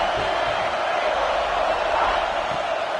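A stadium crowd at a college football game against Mississippi State roars steadily, a dense, unbroken wall of noise filling the whole stretch with no clear breaks.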